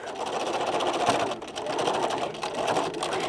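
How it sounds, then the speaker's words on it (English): Sewing machine stitching a zipper case, a close continuous rapid whirring hum with a brief dip midway before it runs on steadily. "I'm going to make sure I do a better job of stitching there."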